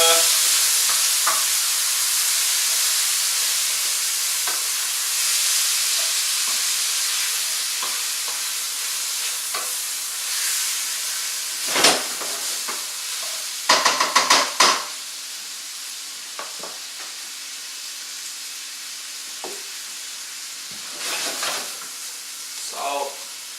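Green beans sizzling and frying in a pan with a steady hiss, punctuated by scraping stirs and a few louder clattering bursts of the utensil against the pan, close by.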